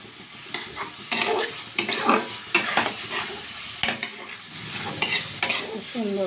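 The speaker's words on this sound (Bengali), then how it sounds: "ভেজে রাখা মাছ আর আলু একসাথেই দিয়ে দিলাম" Fried fish and potatoes being stirred together in a pan, with scraping spoon strokes in uneven bursts over a soft sizzle, close and clear.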